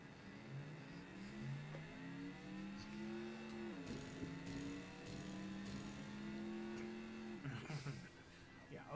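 Car engine in the DOS racing game Stunts (4D Sports Driving), running on a slow machine: a synthetic, buzzy engine tone climbs steadily in pitch, drops sharply at a gear change, then climbs again, quiet and steady throughout.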